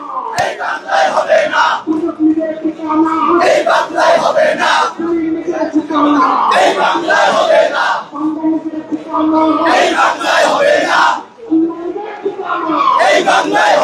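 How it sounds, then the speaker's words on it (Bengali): Students at a protest march demanding a ban on the Awami League chant slogans together in a loud, continuous crowd, with repeated rhythmic call-and-response phrases rising and falling throughout. "আপনারা দেখতে পাচ্ছেন আওয়ামী লীগ নিষিদ্ধের দাবিতে বিভিন্ন স্লোগান দিচ্ছেন শিক্ষার্থীরা।"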